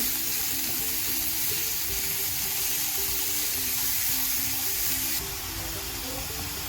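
Onions sauté in a hot pan, a loud, continuous sizzling hiss that holds steady throughout, with a faint tonal hum underneath and a slight drop in brightness near the end.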